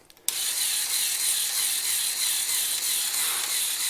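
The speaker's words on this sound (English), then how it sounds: "So you can see the pump operating there" Pneumatic air pump motor on a LEGO combat robot with a flipper, switched on and running steadily: a continuous high, buzzy mechanical whir with a ratcheting texture, close and loud after a sudden start, no voices.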